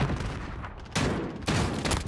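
Sustained automatic gunfire in a Modern Warfare match: dense, rapid bursts, loud and close, with a short lull before firing resumes.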